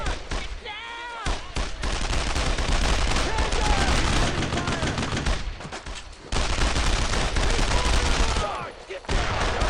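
Dense, loud rifle and machine-gun fire in the WWII shooter Brothers in Arms: Road to Hill 30, sustained volleys with short lulls while soldiers shout over the battle.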